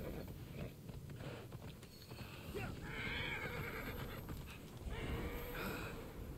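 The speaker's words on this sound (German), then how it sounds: "Können wir hier unser Pferd benutzen?" Horse in the video game Immortals Fenyx Rising whinnies and neighs with clip-clop hooves over a steady game soundscape, faint and mid-distance, with brief talk mixed in.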